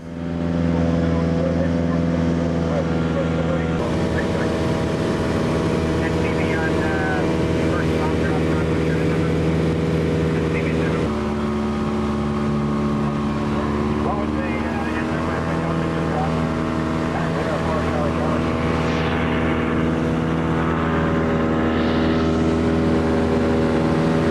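A Lake amphibian seaplane flies over a lake, its engine and propeller droning loud and steady from close by, with a continuous harmonic hum and no speech.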